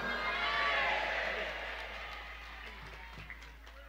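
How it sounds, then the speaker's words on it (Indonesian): An audience at a religious gathering clapping together, a fairly faint, steady patter of many hands that gradually fades over a few seconds. "Ya coba tepuk tangan lagi."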